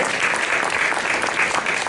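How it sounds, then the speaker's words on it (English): An audience of parents applauding, a dense, steady wash of many hands clapping at moderate loudness throughout, with no voices on top. "A round of applause for yourself"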